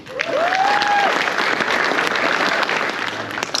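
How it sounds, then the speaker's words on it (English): An audience bursts into steady, full applause for honorees at a drag racing 30 under 30 awards presentation, close and loud, with a brief whistle cutting through near the start. "Let's give these guys and gals a round of applause."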